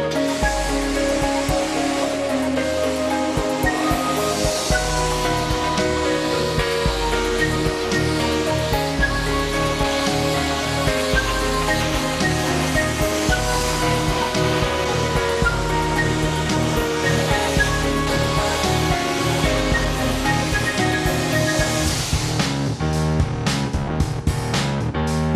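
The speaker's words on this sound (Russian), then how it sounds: "Остатки смываем струей высокого давления." High-pressure water jet rinsing residue off a car at a touchless car wash, a steady loud hissing spray running continuously with no talk, mixed with a sustained tonal hum throughout.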